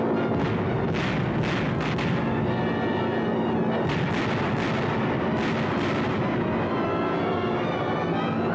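Bombs from a B-24 bomber exploding on Pantelleria, heard as a loud, continuous rumble of heavy, overlapping blasts that rise and fall in waves throughout.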